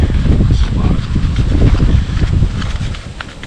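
Heavy, gusting wind buffets the microphone with continuous low rumbling and thumping for a few seconds, loud and close.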